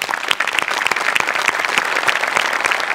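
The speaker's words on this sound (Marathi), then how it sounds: "त्यांच्यासाठी एकदा जोरदार टाळ्या." A studio audience at a Marathi comedy show breaks into loud, dense applause, a steady wash of clapping that lasts throughout.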